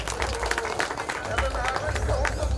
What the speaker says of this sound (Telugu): ఈ సంతోషాన్ని మీరు చప్పట్ల ద్వారా తెలియజేయాలి